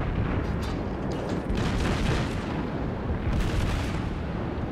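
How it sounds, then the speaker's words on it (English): Torpedo launches from the cruiser Aoba in the video game World of Warships, a loud, continuous rumbling roar with heavy low boom and surges of hissing burst noise throughout. "I shoot torpedoes in your general direction, sir"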